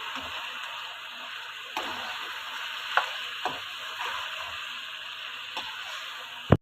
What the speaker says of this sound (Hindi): अब हम 1 से 2 मिनट इसको हमने फ्राई करना है, भूनना है अच्छी तरह।